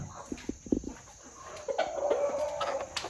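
Several native country chickens cluck in short bursts inside a shed at night, followed by a longer, sustained hen call, fairly close in a quiet space with no talking.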